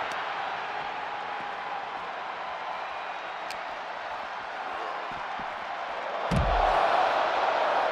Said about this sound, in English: And Jey is channeling the energy of this crowd